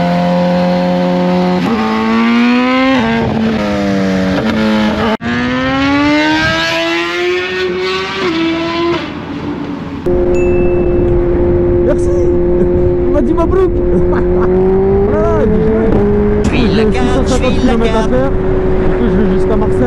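A motorcycle engine revs up and down repeatedly nearby, its pitch climbing and falling in loud surges before settling into a steady high idle.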